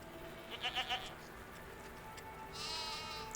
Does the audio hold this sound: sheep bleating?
yes